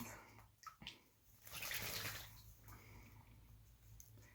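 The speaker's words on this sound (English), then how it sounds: "A baby's taking a bath." Faint splashing and fluttering in shallow water, a baby pigeon bathing, with a quiet steady hum underneath.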